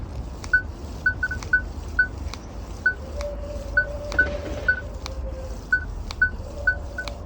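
A Tarsacci MDT 8000 metal detector chirps with repeated short, mid-pitched beeps in an uneven rhythm as it responds to iron, over faint background hiss and occasional lower hum.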